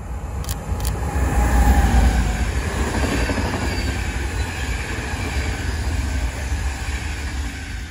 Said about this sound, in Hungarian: És már jön is a Vectronos EC270.